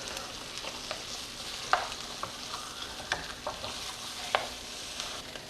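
Pork chops sizzle steadily in a pan, with several sharp clicks and scrapes as they are stirred and turned over, close and continuous, no voices.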